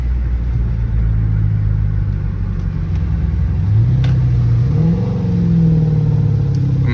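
A Chrysler 300C SRT engine rumbles deeply up close, then revs and rises in pitch through several downshifts, loud and steady, with no talking.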